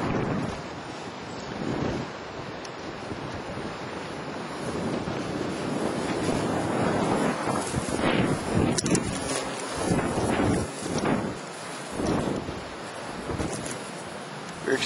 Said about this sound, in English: We're experiencing pretty intense wind up here today. Pretty high gusts.